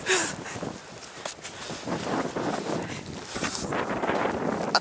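Strong wind gusting during a snow storm, a steady roar buffeting the microphone at moderate loudness, with faint rustling and movement underneath.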